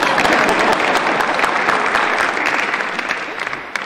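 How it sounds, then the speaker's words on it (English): A dense, loud burst of clapping from an audience at an awards ceremony, steady throughout and fading slightly toward the end. "Extra applause for Catherine for being here"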